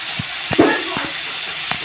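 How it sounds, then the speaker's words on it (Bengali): Ground spices, turmeric, cumin, coriander and chili powder, sauté in a pan for an egg dish with a soft, steady sizzle and a few light stirring scrapes, close and even throughout the brief moment. "আমি এই মশলাটা সব রকম দিয়ে কষিয়ে নিচ্ছি"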